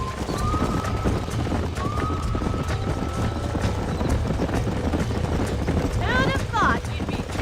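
Horse hooves clip-clopping in the Red Dead Redemption video game, steady hoofbeats over a low rumble, with a short whinny near the end and a faint tonal whistle earlier.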